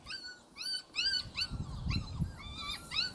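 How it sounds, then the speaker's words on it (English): Puppies whimper and whine in repeated high, rising and falling cries, several overlapping yelps close by against faint low rustling. "Too many puppies"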